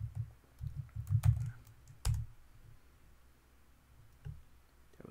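Quick bursts of typing on a computer keyboard, clustered clicks and key taps close to the microphone with a sharper keystroke around the middle and quiet pauses between, no voices.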